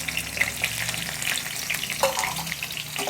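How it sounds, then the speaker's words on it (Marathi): Bitter gourd pieces fry in hot oil over medium heat, giving a dense, continuous crackling sizzle close by with small pops, and no voices. "हे कारले जे आहेत ना आपले सगळेच्या सगळे ना फ्राय करून घ्यायचे आहेत आपल्याला"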